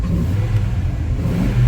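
A car engine warming up revs with a steady, throaty rumble, slightly hesitant on the throttle, close and continuous with no talking.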